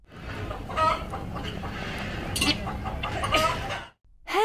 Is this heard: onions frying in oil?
no